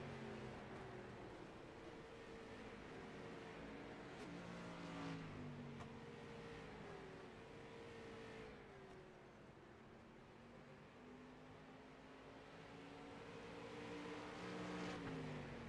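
Rookie street stock race cars circle Lanier National Speedway in iRacing, their engines droning at mid distance and rising and falling as they pass, fairly quiet throughout with no talk.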